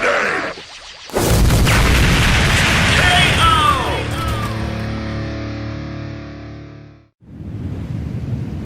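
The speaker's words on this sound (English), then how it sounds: "Hellzone grenade!" Piccolo's Hellzone Grenade energy attack detonating in an animated Dragon Ball fight, a loud booming burst with rolling distorted rumble and whistling energy streaks that fade out, followed by a short gap and further noisy impact.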